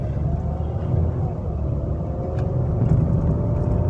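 An automatic car drives up a hill, its engine humming steadily with a slight rise and fall as the transmission shifts, while a person talks over it.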